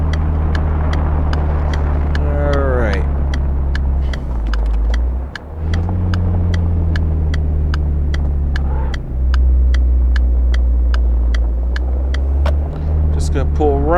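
In the game City Car Driving, a car engine hums low and steady while the car pulls in and stops to park, with someone talking over it and a steady ticking sound running throughout.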